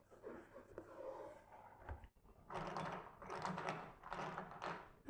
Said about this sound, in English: I hope you like the Lego sounds.